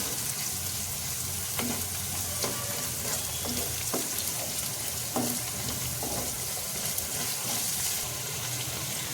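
Manchurian sauce with tomato ketchup and soy sauce sizzles in a pan while a spoon stirs it, steady frying hiss with a series of soft scraping taps, no talking.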